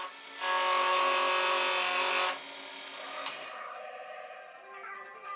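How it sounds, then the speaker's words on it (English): A skew chisel cleans up shoulders on wood spinning on a lathe: a loud, steady cutting whine for about two seconds, then a quieter hum of the running lathe with a brief click. "I'm going to go back to my skew and clean up the shoulders to make them really nice and sharp."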